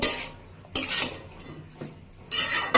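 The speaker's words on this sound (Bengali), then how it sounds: "এখানে আমি সিম আলু ভাজি করে নিতেছি।" Bean and potato stir-fry being stirred in a pan at home, with three bursts of spatula scraping and metal clatter against the pan separated by quieter gaps, close and fairly loud.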